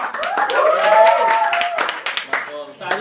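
A studio audience claps for a musical tandem at a Filipino entertainment event, a burst of scattered hand claps under an excited voice, with sharp individual claps continuing after the talk fades.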